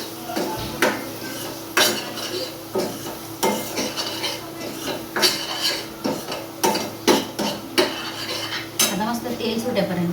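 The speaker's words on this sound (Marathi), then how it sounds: "इथे 1 चम्मच धनिया पावडर, एकदम चिमूटभर आपल्याला हळद टाकायची. जास्त हळद टाकायची नाही. व्यवस्थित मिक्स करून घ्यायचं" Coriander powder and a pinch of turmeric being stirred into oil in a metal pan, with repeated sharp scraping clinks of a spoon against the pan over a steady low sizzle, close and fairly loud.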